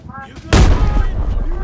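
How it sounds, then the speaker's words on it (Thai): A grenade blast bursts out loud and sudden in the Arena Breakout video game, followed by a rumbling roar and crackling gunfire, with faint voices beforehand. "ผมกำลังจะปาระเบิดนะ"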